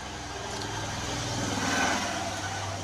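A vehicle passes on a nearby road, a steady engine drone that swells toward the middle and then fades, over a constant background hum.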